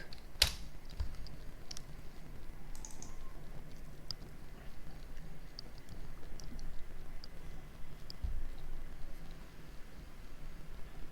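Someone types compile commands on a computer keyboard, the soft key clicks continuous and fairly faint, with one sharper tap near the start.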